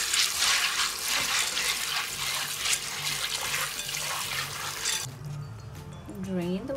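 Running tap water splashes over chickpeas being rinsed in a bowl, a close, steady gush that stops near the end, followed by a voice speaking.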